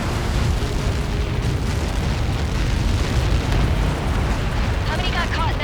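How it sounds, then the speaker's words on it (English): A massive explosion in the video game Ace Combat 7 Skies Unknown, from a Helios projectile impact during Mission 19, roars as a sustained, loud, dense rumble that holds steady throughout, with a brief radio-like voice near the end. "How many got caught in that explosion?"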